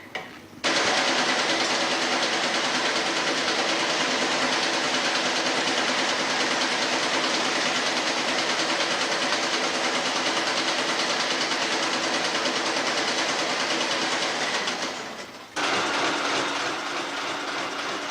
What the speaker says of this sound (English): This machine performs a similar job to the BTM collator and was used for merging cards.